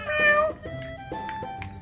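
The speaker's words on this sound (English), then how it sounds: "Crazy Kitty has come to say goodbye to us." A friendly cat meows several times at close range in a seaside setting, a few short rising calls in quick succession, loud and clear with no talk over them.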